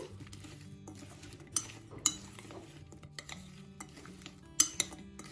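Potato pieces and lemon juice being mixed in a dish with a spoon: soft scraping and stirring broken by a few sharp clinks of metal on the dish, fairly quiet and close, no talking.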